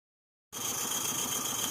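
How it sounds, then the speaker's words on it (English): The safety valve on an Accucraft Wrekin SM32 live steam locomotive blows off at about 50 psi, a steady, close hiss with a faint tonal whistle that starts abruptly from silence and holds without a break. "The safety valve is blowing off at maintaining about 50 psi"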